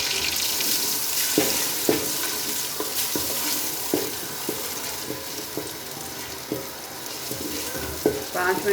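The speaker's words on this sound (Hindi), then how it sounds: "5 मिनट तक ये हमारा मसाला अच्छी तरह हल्का फ्राई हो जाएगा।" An onion, garlic and tomato masala paste fries in hot ghee with a steady, dense sizzle, punctuated by repeated scraping stirs of a spoon against the pan.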